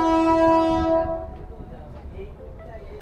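A passenger train bound for Kharagpur sounds a loud, sustained horn for about a second, then runs on with a steady rumble and faint rail clatter.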